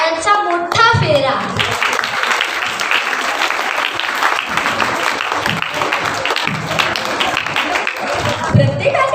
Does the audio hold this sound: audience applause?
yes